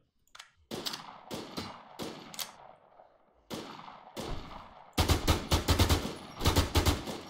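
Gunfire in the online zombie survival game Infestation: The New Z: sharp, separated shots ring out with decaying tails, then a dense rapid-fire burst closes the sequence, loud and close, with no talking.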